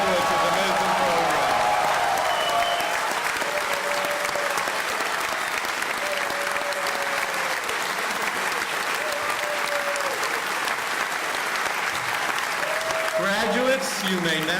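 A large crowd at a college diploma and awards ceremony gives the 2009 graduates a long, steady round of applause, thick continuous clapping that stays at an even level throughout, with voices faintly audible beneath.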